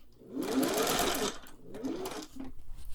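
A Singer 401A sewing machine runs a zigzag stitch in close, loud bursts of rapid mechanical whirring and clatter, pausing briefly between runs.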